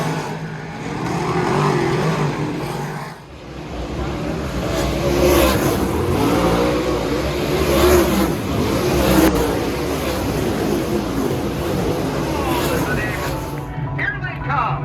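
Big block modified dirt track race cars run four wide in a Super DIRTcar Series race, a dense sustained engine roar with rising and falling revs throughout, overlaid by a track announcer's voice.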